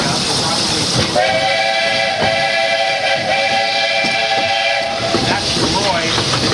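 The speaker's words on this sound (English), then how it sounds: "They're authentic steam trains, built in the Locomotive factory back in Philadelphia" An authentic Walt Disney World Railroad steam locomotive, built in Philadelphia, sounds a long, steady, multi-tone whistle for about four seconds over a low rumbling rail backdrop, starting faintly and ending abruptly.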